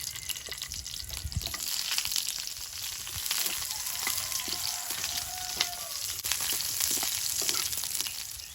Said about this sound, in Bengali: তেল আর ঘি গরম হয়েছে এবার পেঁয়াজগুলো দিয়ে দেবো